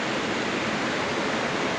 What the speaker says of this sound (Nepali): राम्रो साइडमा खोला बगेको छ सरर